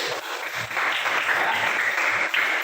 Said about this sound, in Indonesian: Ya, tepuk tangan buat Adil.